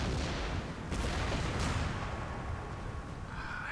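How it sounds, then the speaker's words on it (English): Incoming mortar rounds in the Empire: Total War battle game make a dense, roaring barrage of booms and rumbling explosions. The loud noise is continuous and overlapping, with a couple of sharper cracks and a high whistle near the end. "Incoming mortar rounds."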